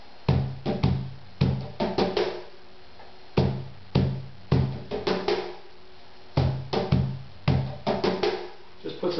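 Cajon playing a tangos compás phrase with added grace notes: sharp slaps and deep bass tones in grouped bursts with brief pauses between phrases, close and clear with no voices.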